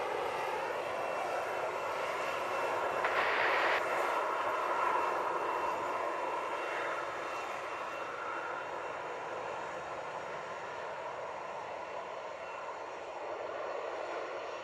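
An airliner's jet engines roar steadily at Montego Bay airport in Jamaica, a loud, sustained rumble and whine heard from outside that hardly varies in level across the whole stretch.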